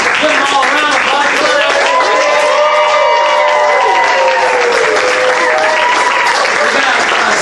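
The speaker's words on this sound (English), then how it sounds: "Give them all a round of applause." Audience applause for a student showcase group at a comedy show, loud dense clapping sustained throughout from a close crowd, with some cheering and bright tonal sounds mixed in.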